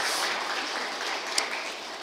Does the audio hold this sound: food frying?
no